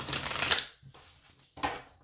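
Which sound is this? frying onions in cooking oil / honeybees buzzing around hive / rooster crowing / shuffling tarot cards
shuffling tarot cards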